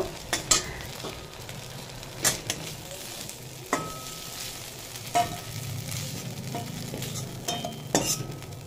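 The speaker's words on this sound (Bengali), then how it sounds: "চিংড়ি মাছটা যে ভেজে নিয়েছি, এবার তুলে নেব" Fried prawns crackle softly in hot oil in a pan, a steady low sizzle broken by scattered clinks and scraping stirs.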